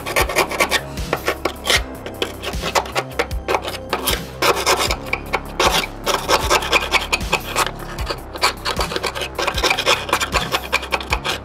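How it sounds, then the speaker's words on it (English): Rust being scraped and sanded off a panel of a Datsun 280ZX, with steady harsh rasping strokes repeating in a quick rhythm, loud and close, and no voices. "scraped it with my scraper."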